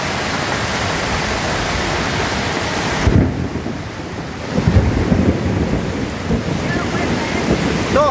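A flooding river rushes hard over stones, a loud, dense, continuous roar that dips briefly midway and surges again.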